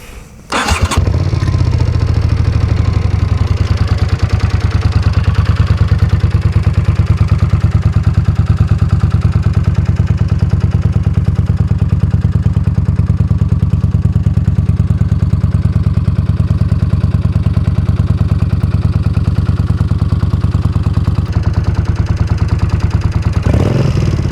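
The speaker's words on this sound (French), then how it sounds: "On va démarrer ça parce qu'alors" A 1981 Honda CX400C motorcycle engine, with non-original exhausts, starts and settles into a loud, steady idle close by, with a rhythmic low rumble throughout.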